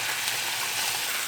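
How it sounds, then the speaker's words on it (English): Wine hits a hot pan to deglaze it and sends up a bright, steady hiss of sizzling that fills the short moment at close range. "after that has cooked down, you're going to add your wine to your pan to deglaze"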